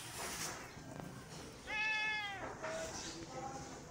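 Cat meowing, from a cattery offering Bengal and Munchkin cats: one long, drawn-out meow stands out clearly, followed by a couple of shorter, fainter mews against quiet background noise.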